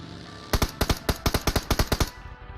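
Rapid automatic gunfire from PUBG Mobile, a tight burst of about a dozen sharp, loud shots in quick rhythm lasting under two seconds, with no talk over it.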